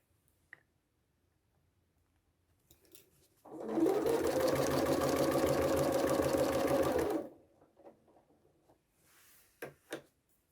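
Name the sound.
sewing machine stitching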